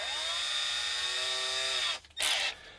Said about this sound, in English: In fact, I'm definitely going to put a pilot hole in this.